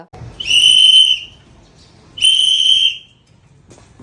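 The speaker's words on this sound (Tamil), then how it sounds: "விசில் அடிச்சுட்டு வந்துதான் குப்பைகளை கலெக்ட் பண்ணுவாங்க." Two loud, piercing whistle blasts from a garbage collector's whistle, each held for about half a second to a second, separated by a short pause, close and clear.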